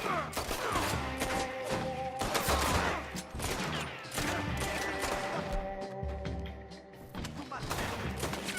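Dense gunfire from a shootout in Red Dead Redemption 2, with rapid overlapping shots and crashing impacts continuing loud and steady throughout, without talk.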